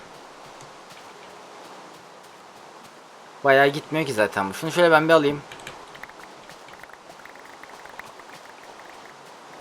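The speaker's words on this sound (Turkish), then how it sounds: "Oğlum bir yerde kar yağıyor bir yerde yağmur yağıyor la." Steady rain hisses softly and evenly in a Minecraft survival world, running continuously underneath while someone speaks briefly partway through.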